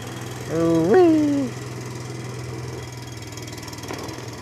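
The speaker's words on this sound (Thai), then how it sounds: "ใช้เรือหางยาวนะครับผม" A long-tail boat engine drones steadily and close at a low pitch on flood water in Chang Han district, Roi Et, with a brief rising whine partway through.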